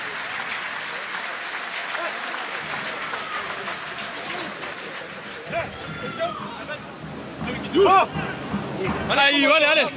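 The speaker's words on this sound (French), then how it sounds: "Très applaudi Johan Vivalda." Rugby crowd in a stadium applauds a substituted second-row forward during a USAP match, steady clapping and cheering lasting throughout, with commentators talking over it and a few louder shouts near the end.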